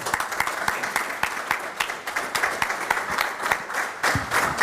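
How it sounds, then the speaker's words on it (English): A workshop audience at an amateur radio conference gives a round of applause, moderately dense clapping from a modest crowd with sharp individual claps standing out, sustained throughout. "Another round of applause."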